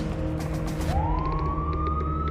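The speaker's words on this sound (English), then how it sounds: "sirens" A siren wail rises steadily in pitch over a low rumbling background, sounding clear but at some distance.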